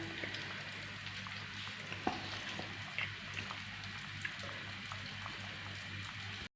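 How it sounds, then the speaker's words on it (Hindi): Small boneless chicken pieces deep fry in hot oil with a constant soft bubbling sizzle, close by and fairly quiet, dotted with occasional light pops and clicks. "इसको फ्राई करेंगे 6-7 मिनट।"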